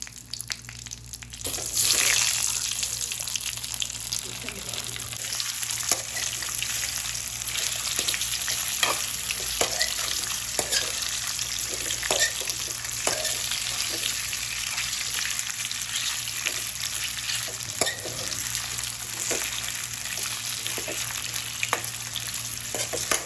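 Kozhukatta dumplings fry with curry leaves in a hot pan, giving a constant close sizzle dotted with irregular pops and spits that carries on unbroken for a long stretch, with no voices.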